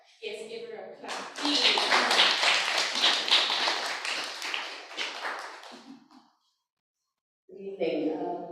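An audience at a fashion school panel discussion claps for about five seconds, a dense burst of hand claps that fades out, with a voice speaking briefly before and after.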